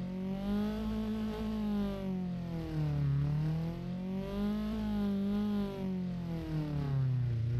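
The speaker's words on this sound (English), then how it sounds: "Wow, it does sound like a Volkswagen Beetle." A 1955 pickup truck engine in the BeamNG video game with a Volkswagen Beetle-like tone revs up and down in smooth repeated swells, buzzy and fairly close, with no talk.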